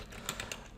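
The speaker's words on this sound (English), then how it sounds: "Let's add a few more lines so we can start typing in stuff." Several light computer keyboard keystrokes clack in quick succession while code is typed, close and fairly quiet, with no talking.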